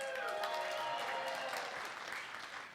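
Audience applause at a church Synod Assembly, a dense, steady wash of clapping from a large crowd that fills the moment and slowly begins to fade toward the end.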